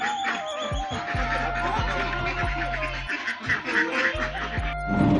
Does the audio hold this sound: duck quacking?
yes